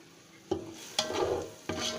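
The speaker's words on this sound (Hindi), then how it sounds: "अब इनको अच्छा सा डाल के भूनेंगे हम मसालों को" Spices fry in a pan for paya curry with a steady sizzle, and three quick scraping stirs strike the pan at regular intervals. The sound is close, with no voices.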